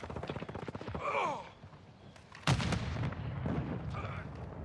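A grenade detonates in Call of Duty Modern Warfare II, one sharp loud blast in the middle of busy game sound, with voices calling out before and after it.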